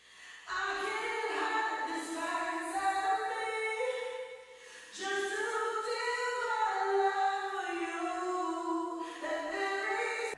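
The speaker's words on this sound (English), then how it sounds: "The reverb is coming from a pair of cascaded quad reverbs" A harmonically rich sustained tone passes through two cascaded quad reverb units, swelling in two long phrases with gliding pitch and washy tails, heard alone in a studio mix.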